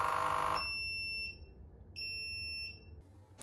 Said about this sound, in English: I heard the two beeps, which meant that it was finished descaling